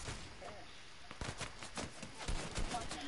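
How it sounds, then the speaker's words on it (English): Distant video game gunfire from a sniper, heard as scattered sharp cracks at irregular intervals over low background noise, growing slightly louder toward the end. "He's sniping right at me."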